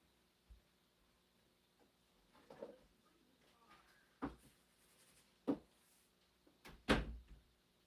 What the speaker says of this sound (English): I am gonna go close my door real quick.